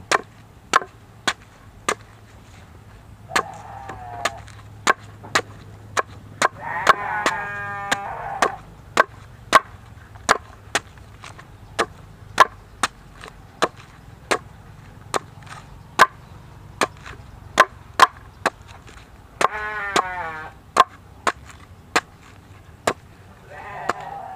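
An old banana tree trunk being chopped for sheep and goat feed: sharp, regular chopping blows repeated steadily for over twenty seconds, with sheep bleating nearby several times in between.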